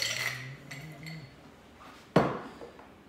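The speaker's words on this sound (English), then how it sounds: "a little bit of ice for shaking." Ice dropped into a metal cocktail mixing tin while making a Caribbean screwdriver, a few light clinks followed by one sharp clattering hit, close by.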